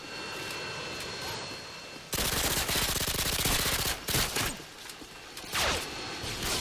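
Hip-fired gunfire in Call of Duty Modern Warfare 2 bursts out as loud rapid automatic rattling, broken into several stretches with short pauses, after a quieter stretch of in-game background noise.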